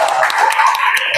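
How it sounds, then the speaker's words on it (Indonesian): Audience claps for player 2 in a grade 5 classroom lesson, a short, steady burst of dense clapping from a group of pupils. "Tepuk tangan untuk player 2."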